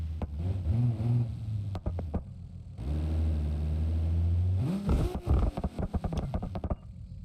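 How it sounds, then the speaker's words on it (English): A car engine in BeamNG.drive revs and accelerates through gear changes, its tone rising and dropping, then ends in a fast run of sharp popping backfires on the overrun. "Oh, the backfires."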